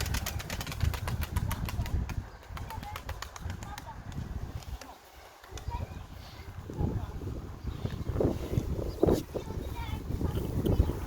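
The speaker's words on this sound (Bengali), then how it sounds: "গোলাঘরের উপর যে কবুতর আছে" Pigeons at a loft above a granary flap their wings in repeated rapid bursts, with soft cooing mixed in, while people talk nearby throughout.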